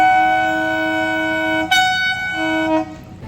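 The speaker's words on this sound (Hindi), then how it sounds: "11:05 पे हमारी गाड़ी ने हॉर्न दिया है" A loud, sustained horn from the Patalpani–Kalakund heritage train blasts nearby, pauses briefly, then sounds again before fading; no voices.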